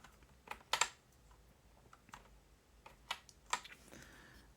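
An RGB computer keyboard is typed on lightly, scattered soft key clicks and a few sharper taps spread irregularly, faint and close with no talking.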